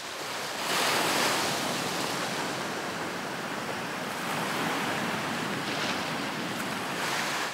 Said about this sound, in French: La force du courant dans les passes de Rangiroa est phénoménale. Aucun homme n'oserait surfer sur ces vagues.